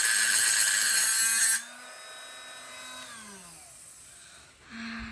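A power tool with a worn blade cuts a rust repair panel for a Navy Jeep CJ5, giving a loud, close, harsh whine that stops suddenly and winds down in a falling tone, then a brief burst of cutting again.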